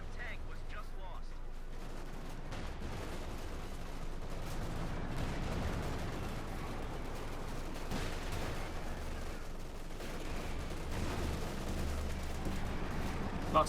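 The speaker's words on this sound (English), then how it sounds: "Lots of shooting here, troops to fall back." Battle in Company of Heroes 2 between Wehrmacht and US Forces: a steady, dense wash of distant rattling gunfire and rumbling combat that holds at an even level throughout.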